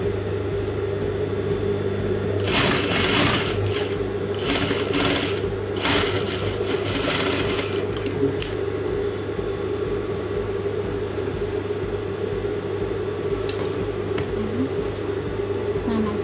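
A sewing machine stitches the welt pocket of a suit jacket, humming steadily and close for the whole stretch, with a few brief louder clatters near the start and no voices.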